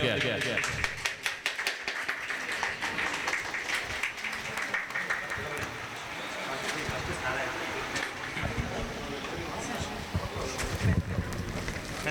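Loud, continuous audience applause as a prize winner is honoured at a charitable trust's song competition award ceremony, with dense clapping throughout and voices mixed in underneath.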